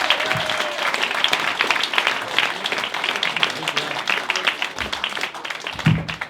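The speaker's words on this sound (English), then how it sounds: "start the applause, bring it right the way through the room, all the way down to the end" Applause spreads through a pub comedy room, a steady crowd clapping with a few individual claps and faint voices mixed in, fading slightly toward the end.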